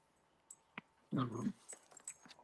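A puppy gives a short, faint whimpering whine indoors, with a few soft clicks and rustles around it and no talking.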